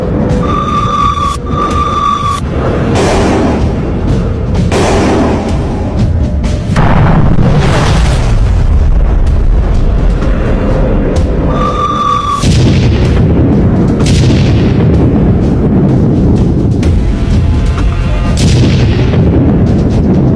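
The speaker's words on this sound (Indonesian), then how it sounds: "Kapal Feinerbrook dibom oleh 9 pesawat tempur Jepang." Loud, repeated booms of explosions and bursts of machine-gun fire from nine Japanese warplanes bombing a ship keep coming throughout, dense and heavy, with a high tone sounding briefly now and then.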